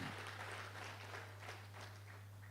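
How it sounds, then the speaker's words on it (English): Conference audience applauding together, a steady wash of clapping heard from a distance at low volume. "We need to clap hands for ourselves."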